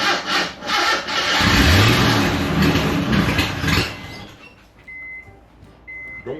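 A 1987 Jeep Wrangler engine, with its fuel and exhaust system being restored, cranks and fires up at close range, running with a rough, loud churning before settling down and fading to a quieter idle.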